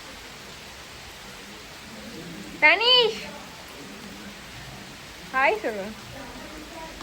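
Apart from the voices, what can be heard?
heavy rain in Chennai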